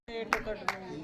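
Two sharp claps from children at a 2024 Vacation Bible School function, ringing out close together over a background of children's voices and chatter.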